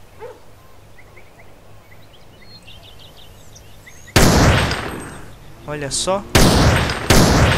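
Gunfire from a weapon in a GTA San Andreas mod weapons pack: loud bursts break in suddenly after a quiet stretch with faint background ambience, then more sharp blasts follow in quick succession, with brief talk before them.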